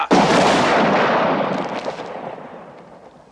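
A rifle volley from a military firing party goes off as one loud, sharp crack near the listener, then rolls away in a long reverberant echo over about three seconds. Nobody speaks.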